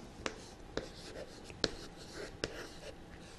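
Pen or pencil writing numbers by hand on paper during a fourth-grade maths lesson on odd and even numbers; four sharp, separate strokes or taps stand out over a quiet room, close and soft.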